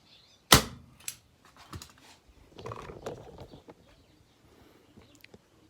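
A staple gun fastening a seat cover onto a Suzuki LTR450 ATV seat gives one loud, sharp snap near the start, then a softer click and a few quieter handling knocks.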